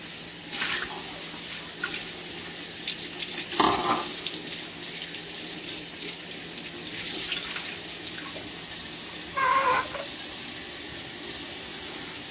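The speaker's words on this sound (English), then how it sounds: "So we're going ahead to rinse, give it a proper rinsing." Running tap water pours steadily while eggplant and yam are rinsed in a kitchen sink, a continuous wash with a few brief clunks and splashy bursts from handling the vegetables.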